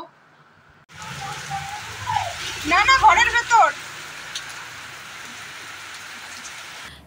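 Rain pattering steadily outdoors during a short walk, a broad continuous hiss that starts abruptly and runs to the end, with people talking briefly over it.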